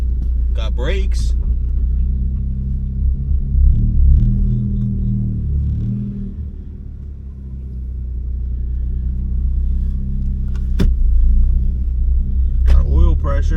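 A Ford Focus MK3 with a SideWinder turbo kit, misfiring a little on its first drive, gives a steady loud low engine rumble from inside the cabin. It swells and eases with throttle, with brief bursts of talk near the start and end.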